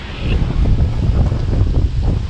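Steady wind rushes and buffets the microphone at Cox's Creek Campground, a low, gusty roar with no voices.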